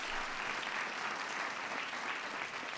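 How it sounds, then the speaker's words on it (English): A crowd at a White House ceremony honoring the UConn Huskies applauds for the university's board of trustees chairman, Larry McHugh, a dense, sustained clapping that stays fairly distant and even throughout. "Give him a big round of applause."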